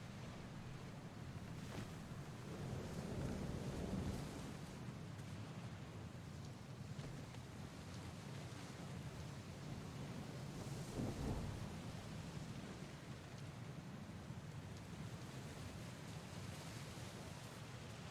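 A stormy sea in a fantasy ship video game: a steady wash of rain, wind and waves with low rumbles of thunder swelling twice, continuous and moderately quiet throughout, no talking.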